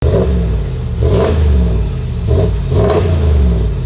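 A Dodge Ram 1500 Rebel with a 5.7 Hemi V8, switching between a Borla Atak exhaust and a muffler delete, revs loud and close in repeated throttle blips, with deep rumbling rises and falls.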